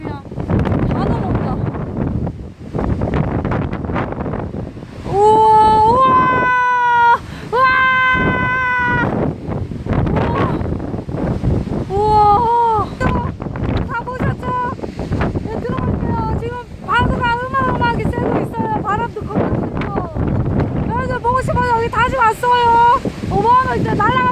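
Strong typhoon winds from Typhoon Bavi lash Chuja Island, Jeju, a continuous loud roar buffeting the microphone while people talk excitedly throughout.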